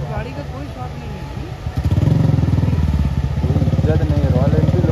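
A Royal Enfield motorcycle engine labors while off-roading on a rough trail, its rumble close and loud, surging midway into a heavier throbbing pulse, with voices talking over it.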